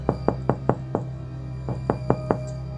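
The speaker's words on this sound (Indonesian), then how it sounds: "Sulastri mengetuk pintu dengan tergesa-gesa." Hurried knocking on a wooden door: a quick run of five sharp raps, a brief pause, then four more, close and distinct over a low steady hum.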